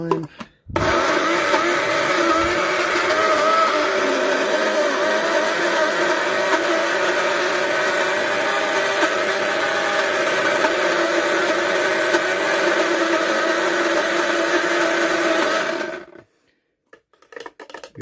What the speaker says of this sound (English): With this blender you can only do it for about 20 to 30 seconds, otherwise it'll overheat.